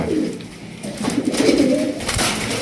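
A male Lahori pigeon coos close by, a short series of soft, throaty rolling coos over faint background noise.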